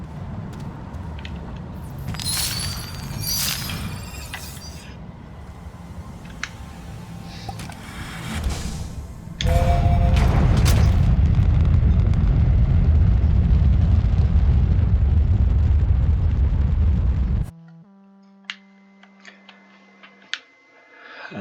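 Rocket launch in the space game Astroneer: a sustained, loud roaring rumble kicks in and holds steady for several seconds before cutting off abruptly, followed by sparse ticks and a low electronic tone.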